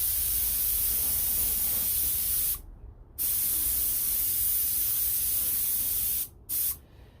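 Alclad chrome paint is sprayed from an airbrush in a steady, loud hiss that runs for a couple of seconds, stops briefly, resumes for several more seconds, then cuts off twice near the end, with no talking.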